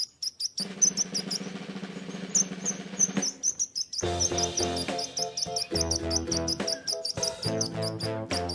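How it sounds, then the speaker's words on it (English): A sparrow chirps in rapid, repeated high tweets, bright and close, running almost continuously over a layered musical backing with no speech. "sparrow"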